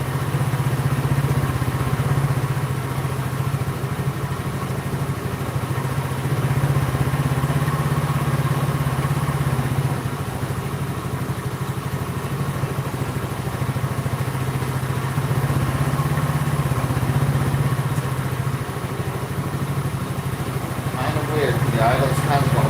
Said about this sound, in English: The idle's kind of going up and down a little bit.